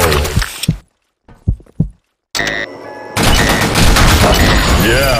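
Gunfire in a shooter video game comes as several sharp, loud bursts separated by brief silences, then gives way to a dense, sustained barrage of shots and explosions up close.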